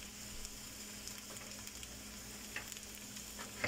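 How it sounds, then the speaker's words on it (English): Sage fries in a little oil in a pan, giving a soft, steady sizzle with faint crackles up close. "right now I'm busy frying the sage"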